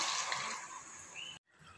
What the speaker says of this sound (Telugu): సింపుల్ కొన్ని వాటర్ పోసుకోవాలండి.